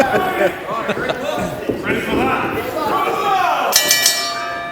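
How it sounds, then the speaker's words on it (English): A ring bell at the start of a professional wrestling show clangs with a bright metallic ring near the end, under commentators talking and crowd noise. "The bell is rung. We are underway."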